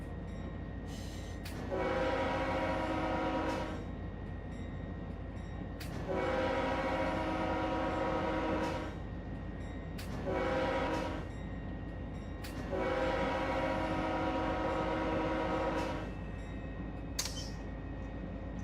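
A locomotive horn sounds in the Run 8 train simulator game on a Norfolk Southern local run. It gives four loud blasts in a long, long, short, long pattern over a steady rumble of the moving train.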